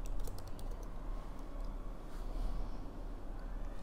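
Quiet typing on a computer keyboard while code is entered, a steady soft patter of key presses under a low room hum, with no speech.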